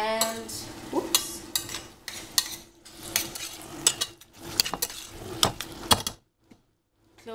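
Cheese sauce for mac and cheese stirred in a pot, with a busy series of close metal scrapes and clinks of a utensil against the pot, ending abruptly in near silence.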